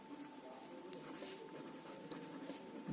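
Soft, faint scratching of numbers being written by hand during a maths lesson, a few light strokes in quick succession against a quiet room.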